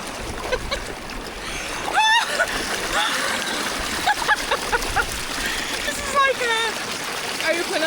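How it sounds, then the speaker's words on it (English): A small river runs and gurgles steadily at a UK stopover, with close splashes and bubbling water throughout and a few light chirps scattered over the flow. "We've got a little river running behind me."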